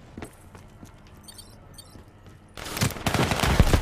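Gunfire erupts in a Call of Duty: Black Ops III multiplayer match, starting as faint scattered shots and footsteps, then swelling into loud rapid bursts near the end.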